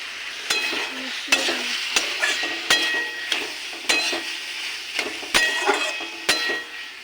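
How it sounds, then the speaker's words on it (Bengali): Boiled soybeans stirred and sautéed with chili powder in a pan, a steady close sizzle broken by about a dozen sharp scraping knocks of the spatula against the pan, no voices. "আর নেড়ে কষিয়ে নেব এবার দেব সিদ্ধ করা সয়াবিন"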